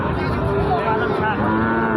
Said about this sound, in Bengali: দেশি কিছু আছে শিং ওঠা গরু